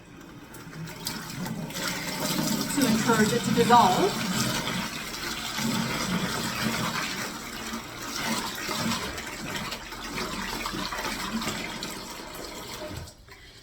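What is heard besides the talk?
warm water pouring into a bucket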